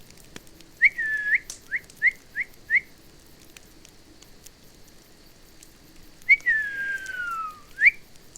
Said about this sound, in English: Because apparently on Discord, the people can't hear me whistle.